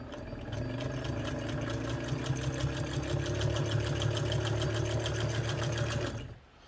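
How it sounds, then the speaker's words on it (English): Kenmore 117.95 sewing machine stitching through a layer of leather, a steady fast mechanical whir with rapid needle chatter running for about six seconds, close and loud, then stopping abruptly. "this machine, you roll the hand wheel away from you to make the machine go forward"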